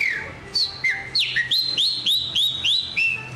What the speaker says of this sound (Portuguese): Tem alguns passarinhos aqui, tem um pássaro preto.